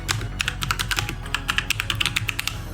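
Rapid keystrokes on a computer keyboard as a command is typed into a terminal, a dense, fairly steady run of close, crisp clicks with no voices.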